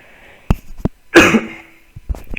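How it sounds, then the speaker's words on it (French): A man coughs hard once, a loud harsh burst in the middle, with short throat noises before and after it. "il avait toussé"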